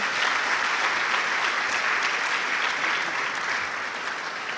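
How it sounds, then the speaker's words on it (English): Sustained crowd applause for a speaker at a university e-learning week event, thick and continuous clapping from a large audience, easing slightly at the end. "And we appreciate, please, a round of applause for him."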